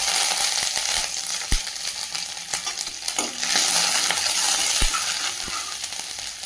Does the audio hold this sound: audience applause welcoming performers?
no